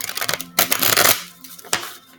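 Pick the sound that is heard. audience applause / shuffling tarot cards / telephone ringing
shuffling tarot cards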